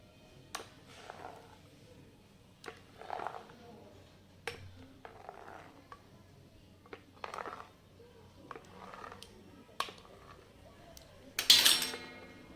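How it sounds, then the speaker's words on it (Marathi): Knife slicing rolled-out dough diagonally for God kapnya, sweet fried snacks, giving faint, sparse clicks and light taps on a board at irregular intervals, with a brief louder scrape near the end in a quiet kitchen. "आता हे कट करून घेऊया. हे बघ, तिरके तिरके असे कट करायचे आहेत."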